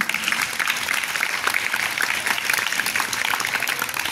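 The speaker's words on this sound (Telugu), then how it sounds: "సో మీ అందరికి గట్టిగా చప్పట్లు కొట్టుకోండి." Students at a school motivation class burst into sustained, loud applause, a dense steady wash of many hands clapping together for several seconds without pause.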